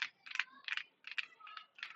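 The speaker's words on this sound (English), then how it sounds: "I'm typing Hebrew." Quick bursts of typing on a computer keyboard, with clustered key clicks separated by short pauses, close and fairly quiet.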